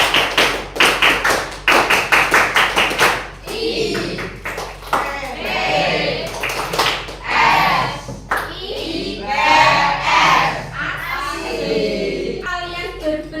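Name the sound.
class clapping the Tepuk IPS rhythm chant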